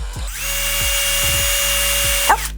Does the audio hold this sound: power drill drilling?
yes